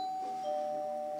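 A doorbell sounds a short electronic ding-dong with two clear sustained tones, moderately faint and alone.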